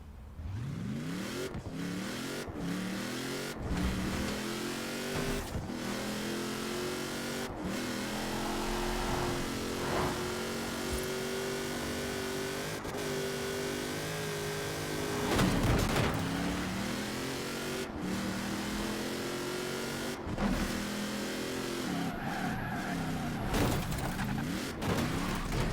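Forza Horizon 5 car engine driven with a steering wheel, revving and accelerating repeatedly with rising pitch sweeps and sharp gear-shift breaks, loud and continuous throughout.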